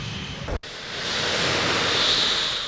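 A Su-24M frontline bomber at a military airfield in Lutsk produces a steady, loud roar of jet engine noise that briefly cuts out, then builds back into a continuous broadband rush.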